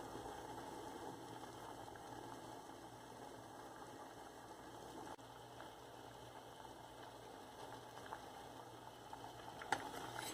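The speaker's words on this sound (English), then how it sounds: "Boil has come, but we have to cook the dal for another few minutes." Dal boiling in a cooking pot for garlic dal tadka: a steady, soft bubbling hiss that runs evenly throughout with a few faint clicks and no voices.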